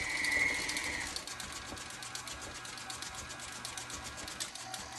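An electric mixer with a beater runs at low speed while dry ingredients go into the batter, a steady close whirring motor with a fast rattling pulse and no talk.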